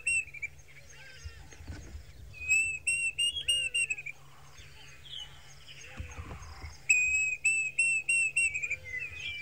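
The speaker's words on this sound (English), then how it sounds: "So that was the call. So this is the class's cuckoo." Klaas's cuckoo call played from a phone, a series of clear, rising whistled notes repeated in two quick runs, fairly close, with low rumbling background noise between the phrases.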